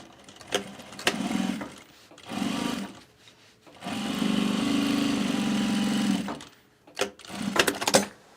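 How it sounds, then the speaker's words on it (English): A sewing machine top stitches a duffle bag in bursts, humming and whirring through several short runs and one long run of about two seconds, with handling clicks and bumps between them. "let's top stitch this side"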